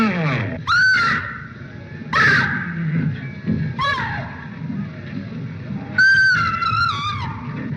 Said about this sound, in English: she screams. Always the same scream.